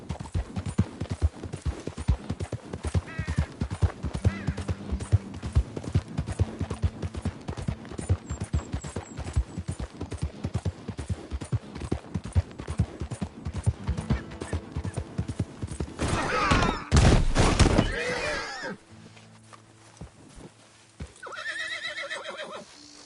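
Horse galloping in Red Dead Redemption 2, with rapid rhythmic hoofbeats loud and close for most of the stretch, a burst of louder noise, then quieter ambience with a whinny-like call near the end.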